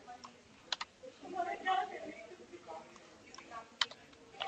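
A name being typed on a computer keyboard while setting up an Ubuntu 17.10 64-bit virtual machine: a few scattered key clicks, close and light, under a low murmur of speech.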